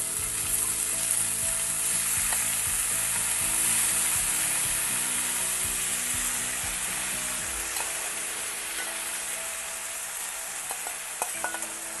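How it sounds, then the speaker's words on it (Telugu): Boiled cluster bean pieces frying in a spluttering South Indian tempering, a steady loud sizzle with crackles and occasional stirring scrapes and clinks of a spoon against the pan. "ఇందులో ఇప్పుడు ఉడికిన గోరుచిక్కుడుకాయ ముక్కలు వేసి వేయించుకుందాం."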